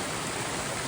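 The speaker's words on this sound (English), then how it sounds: "I just crossed the North Fork San Jacinto River." The North Fork San Jacinto River runs as a creek along a mountain trail, giving a steady, close, full rushing hiss of flowing water with no voices.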